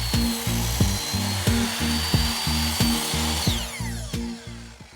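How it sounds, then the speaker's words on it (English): Power saw cutting a new hardwood floor board, a buzzing, grinding cut with repeated rhythmic pulses, loud and close for several seconds without talking. "go out to your new boards, and begin making your cut so you can form it around the cabinet"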